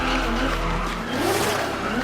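Race car tires skid and squeal during a street race in a film, a loud continuous screech over steady engine roar for about two seconds, with no voices.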